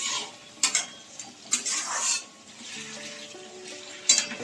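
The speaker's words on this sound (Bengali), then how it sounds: "এবার আলুগুলোকে একটু নেড়ে দিই" Potatoes being stirred in a pan for a fish head and rice curry, with sparse scraping spoon clinks and knocks against the metal over quiet low sizzling, close by.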